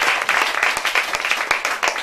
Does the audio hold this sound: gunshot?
no